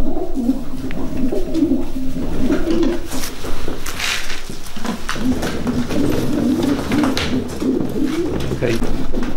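Racing pigeons of the Janssen line coo repeatedly in low, soft bursts close by, over steady background noise and some faint talking.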